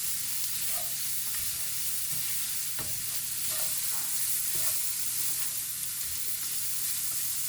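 Shrimp and chicken fried rice in oil sizzles steadily as a spatula stirs it, with a constant hiss and occasional scraping clinks, close and continuous with no talk.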